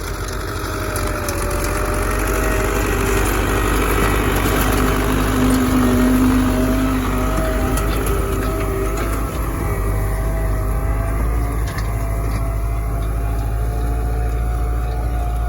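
An MTZ-80 tractor pulls an AG-2.4-20 disc harrow across stubble, its engine droning loud and steady throughout with faint rattling from the implement.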